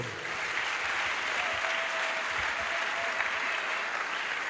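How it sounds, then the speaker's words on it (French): Audience applause at a church crusade in Douala: sustained, dense clapping from a crowd, steady and fairly close throughout, with faint voices mixed in. "Acclamons pour le Seigneur."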